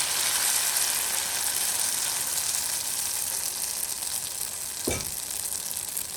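Semolina and potato batter cooking in an iron pan, a continuous close sizzle hissing throughout with a single sharp knock or tap partway through.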